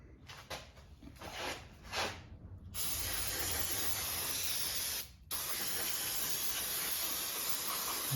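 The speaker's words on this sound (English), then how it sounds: "So just use some brake and parts cleaner" Brake and parts cleaner sprayed onto the front brakes of a Toyota Tundra, starting with a few short hissing bursts and then running into a long, steady, close spray with one brief pause.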